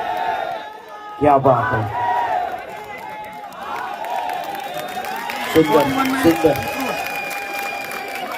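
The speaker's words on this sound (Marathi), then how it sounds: "इथे हजारोच्या संख्येने प्रेक्षक आहेत, हजर करतायत टाळ्यांचा गजर।" Large crowd of thousands at a Govinda Pathak human-pyramid event in Mira-Bhayander, clapping and cheering in loud bursts that swell twice over a steady roar of voices, with a commentator talking throughout.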